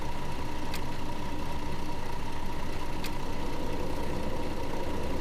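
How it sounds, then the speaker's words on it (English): Bus engine in the Tourist Bus driving game, running at a steady idle with a constant low rumble and a faint hum, loud and close with no talking. "let's start the engine up and we can get cracking"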